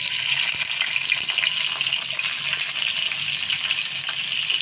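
Onions frying in hot oil in a pan for a Bengali dried-fish and Malabar spinach seed dish, a steady dense sizzle that stays loud and close throughout with no talking.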